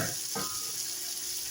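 Food sizzles steadily in a home cooking pan, a soft continuous frying hiss with a brief stir or clatter near the start, at moderate distance and without talk.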